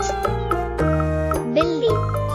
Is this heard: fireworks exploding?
no